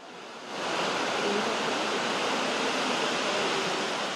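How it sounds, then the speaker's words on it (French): Saut du Doubs, a 27-metre waterfall on the Doubs river between Switzerland and France, roars as a steady broadband rush that swells up after a quiet first half-second and then holds loud and even. "une cascade de 27 mètres entre la Suisse et la France"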